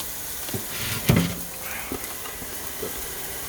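Meat and vegetable mix frying in a pan as a topping for Cantonese crispy two-sides-yellow noodles, giving a steady moderate sizzle with a louder burst of crackling about a third of the way through.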